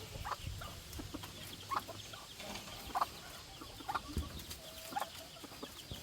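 Roosters cluck and crow in short, repeated calls at a moderate distance over a low background murmur, with bursts arriving about once a second.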